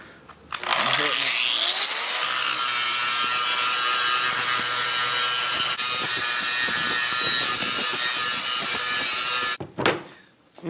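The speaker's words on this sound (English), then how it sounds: "that's just as simple as taking your angle grinder" Angle grinder deburring drilled holes in car body metal, spinning up and then holding a loud, steady, harsh grinding whine for several seconds before shutting off abruptly.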